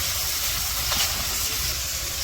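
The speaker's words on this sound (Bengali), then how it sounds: "মাছগুলো দিয়ে দিল ভাজার জন্য" Whole fish frying in hot oil in a wok (kadai) in a village kitchen, after being coated in turmeric, chili and salt. A steady, loud broadband sizzle and hiss runs throughout with no talk.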